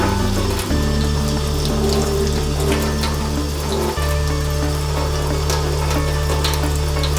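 Tap water running steadily while makeup brushes are washed, with a loud low hum and constant rush, small wet squishes and clicks on top, and a brief shift partway through.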